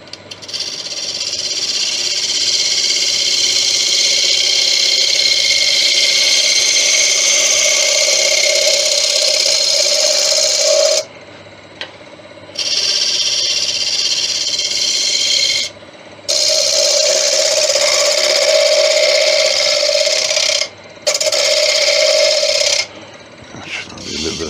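Tigerwood turning being sanded on a wood lathe: a loud, steady abrasive rasp with motor hum, running continuously and broken by several brief pauses where the sanding lifts off.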